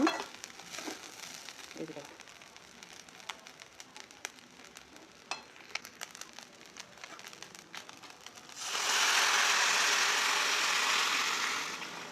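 Rice fries in oil with cardamom and cinnamon as stirring clicks and crinkles build into a loud, steady sizzle that fills the last few seconds.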